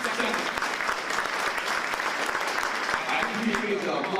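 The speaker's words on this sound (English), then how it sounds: "I appreciate the applause" A large crowd at Willie Mays' public memorial at Oracle Park in San Francisco breaks into sustained applause, dense and continuous clapping echoing across the ballpark, with a voice mixed in.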